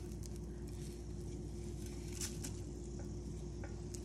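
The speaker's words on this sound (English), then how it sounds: "So let's do the tadka with methi dana" Fenugreek seeds (methi dana) sizzling in hot oil for a tadka, a steady low frying hiss with scattered faint pops and ticks throughout.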